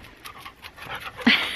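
A dog pants rapidly and audibly close by, a quick rhythmic huffing with a brief whimpering catch near the end.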